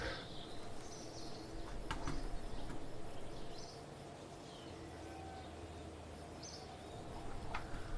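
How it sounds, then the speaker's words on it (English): Faint, sparse bird chirps sound over a low, steady ambient hum in the Kerbal Space Program game, with a few short calls scattered across the stretch. "I mean, I hear the bird."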